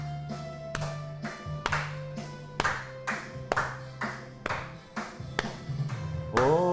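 A church congregation at Sunday worship claps along in rhythm as a praise song starts. Sharp, evenly spaced claps land about once a second over sustained keyboard or organ chords, moderately loud in the room.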